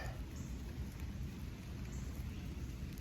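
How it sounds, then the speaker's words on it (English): Heavy rain outdoors over a raised garden bed, a dense, steady roar with low rumbling that suggests distant thunder, growing in strength with no one speaking. "The rain is increasing."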